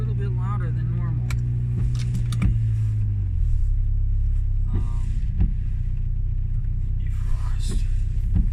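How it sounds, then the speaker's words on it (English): A car engine running louder than normal on a rainy morning commute, a deep steady rumble with a low tone that drops in pitch partway through, along with faint clicks and brief higher sounds over it. "My car is sounding a little bit louder than normal."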